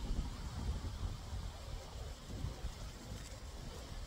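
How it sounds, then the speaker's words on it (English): Strong outdoor wind gusts roar steadily and loudly against the microphone, a dense low rumble with buffeting throughout and no voices. "we have got insane winds today"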